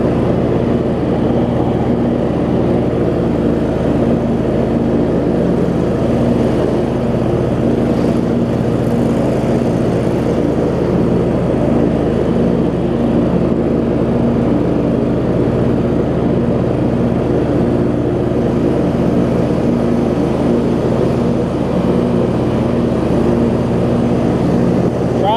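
A John Deere LX279 lawn tractor idles and runs with its PTO engaged, a steady low engine drone and mower hum continuing evenly and close for the whole stretch, with no talking.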